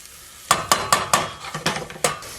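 Diced onion frying in olive oil and being stirred, a quick run of about eight rhythmic spoon knocks and scrapes against the pan over a light sizzle, close and clear.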